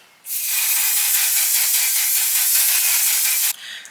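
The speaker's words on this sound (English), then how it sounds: "I am going in with the One Size On Till Dawn finishing spray" One Size On Till Dawn makeup finishing spray is misted in a single continuous burst lasting about three seconds, a close, loud and even hiss that cuts off sharply, with no talking.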